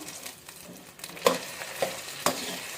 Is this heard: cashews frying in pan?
yes